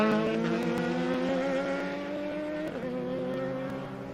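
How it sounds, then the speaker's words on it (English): An Audi race car roars through a very bumpy turn 1 at Sebring, its engine note steady and loud with a brief dip in pitch as it works through the corner. "Look how solid and planted that Audi is going through a very bumpy turn 1."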